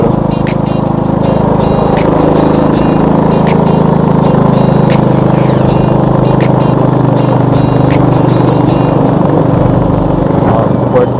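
A semi-automatic motorcycle engine labors uphill in fourth gear, a loud, steady low drone from close by, with sharp periodic ticks and clicks over the strain.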